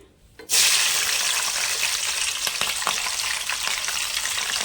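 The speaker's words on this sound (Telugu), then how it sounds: "ఇప్పుడు మనం ఫస్ట్గా పచ్చిమిరపకాయలు వేసుకుందామండి" Green chillies dropped into a pan of frying onion, ginger-garlic paste and cumin for a chicken curry, bursting into a loud, close, continuous sizzle after a brief quiet start.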